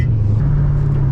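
A Ford Mustang's engine rumbles loud and close as it pulls in second gear on a slippery road, its low droning note stepping up briefly in pitch during the short burst.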